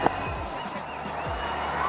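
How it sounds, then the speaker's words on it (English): Cricket stadium crowd at an IPL match between India and Australia, a broad steady roar of cheering and clapping that holds through the short stretch, opening with a sharp thump. "he thought they were applauding him off"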